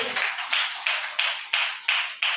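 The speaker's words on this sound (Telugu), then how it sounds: "చప్పట్లు కొట్టు" A church congregation claps hands in a steady, even rhythm, about seven sharp claps, fairly close and without talk.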